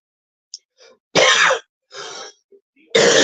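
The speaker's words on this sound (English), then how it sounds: "proper man's cough now." A man coughs in several harsh bursts, two long loud hacks separated by a shorter one, with small throat sounds between them, close to the microphone and with no talk.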